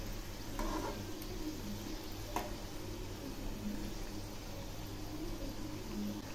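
Puli pitha sizzling in hot oil as it fries, a steady soft crackle and bubbling close by, with a couple of faint ticks from turning the dumplings.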